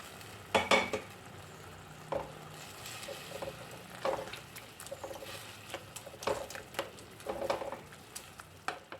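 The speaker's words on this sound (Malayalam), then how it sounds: "പരിപ്പൊന്ന് ഉടച്ചു കൊടുക്കണം കേട്ടോ" Cooked lentils being mashed into a simmering ridge gourd curry, with soft scraping, stirring and knocking sounds in irregular bursts near a gentle bubbling sizzle.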